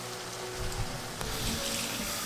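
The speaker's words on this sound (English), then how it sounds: "so we're gonna add a little water, stir it up" Water poured into about two tablespoons of cornstarch and stirred while mixing a slurry for Vietnamese clear dumplings, a steady close trickling and splashing with no talk.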